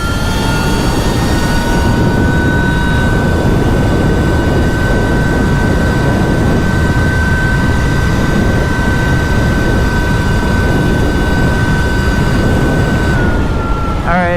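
A 72-volt electric dirt bike, a Sur Ron clone, runs at full throttle with a loud, sustained high-pitched motor whine over heavy wind and road rush, steady for the whole stretch before easing off at the end.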